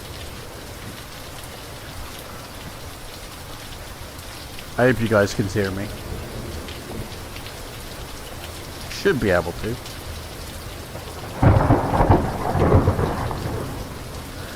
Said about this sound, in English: Either way, it's pissing with rain.